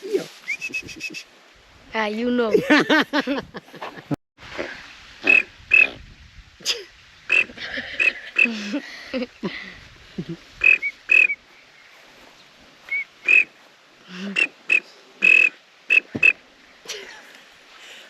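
People in Fiji take turns whistling and warbling imitation bird calls, short bright chirps and trills scattered among talk and laughter.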